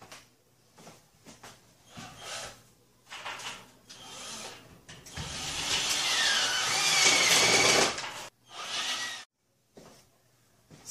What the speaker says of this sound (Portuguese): agora é só parafusar.